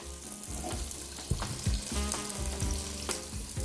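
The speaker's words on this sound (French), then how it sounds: "mes carottes, je vais bien les faire frire" Carrots frying in hot oil: a steady, close crackling sizzle with scattered sharper pops, continuous and fairly quiet, with no talking.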